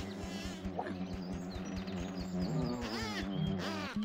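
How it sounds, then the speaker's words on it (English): A bee buzzes in Piglet's Big Game, a wavering insect drone with rising and falling pitch, fairly close and continuous, swelling louder toward the end amid the game's background tones. "Oh, is the bee back?"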